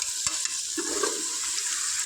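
Steady sizzling of mutton curry frying in a pan as its water cooks off, with a spoon scraping and stirring through it, close and continuous.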